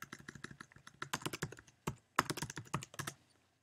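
Quick bursts of keystrokes clatter on a computer keyboard as a username and password are entered, close and crisp, with brief pauses between runs and no talking.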